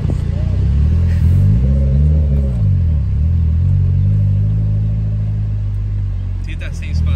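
A K-series engine swapped into a Honda EG car produces a loud, steady low rumble throughout, with a slight rise and fall in pitch as it revs, heard close from inside while people talk over it.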